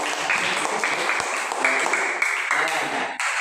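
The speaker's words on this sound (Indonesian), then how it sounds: "tepuk tangan buat" A classroom of students claps together in a lively, sustained burst, the dense patter holding steady and loud before breaking off near the end.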